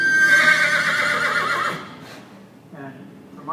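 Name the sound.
horse neighing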